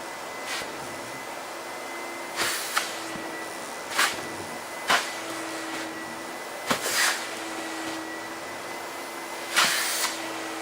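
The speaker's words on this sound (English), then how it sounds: "then I want to fire up my vacuum and pull some of the dirt out of it" A vacuum cleaner runs over carpet, drawing out dirt with a steady droning whine, and several sharp bursts of sucking noise break in at irregular intervals.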